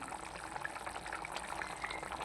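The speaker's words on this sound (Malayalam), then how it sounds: "നമുക്കൊന്ന് അടച്ച് വെച്ച് തിളപ്പിക്കാം അത് നല്ല വൃത്തിയായിട്ട് തിളച്ച് വരുന്നുണ്ട്" Fish curry with kudampuli bubbling in a covered pot, a faint steady simmer of small popping bubbles and hiss, quiet and continuous with no talk.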